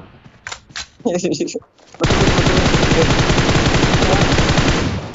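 Rapid automatic gunfire in a battle royale game, a loud sustained burst of shots running steadily for several seconds after a few brief earlier sounds, up close with no talk over it.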